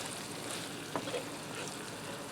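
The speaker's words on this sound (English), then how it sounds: "I'm going to give that a stir, mix everything together." Sloppy joe mixture stirred in a pan over the heat, giving a steady soft sizzle with one brief scrape of the utensil partway through.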